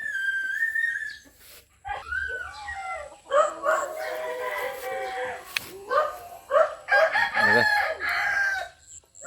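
Roosters at a cockfighting gathering in a village in Barangay Bonbon crow loudly and close, several long warbling calls overlapping one after another, with a little background chatter.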